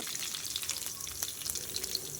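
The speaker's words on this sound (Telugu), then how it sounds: "తాలింపు వేసుకోవాలి" Tempering spices such as cumin, mustard seeds, dried chillies, garlic and curry leaves crackle and sizzle steadily in hot oil, a dense, bright hiss with small pops scattered throughout.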